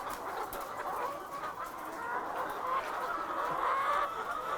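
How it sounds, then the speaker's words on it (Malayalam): Four hens cluck and murmur softly in a cage in a steady, overlapping chorus, with constant low chatter from the birds close by and no talking. "അതിനകത്ത് നാല് കോഴികളെയാണ് നമ്മൾ ഇട്ടിരിക്കുന്നത്"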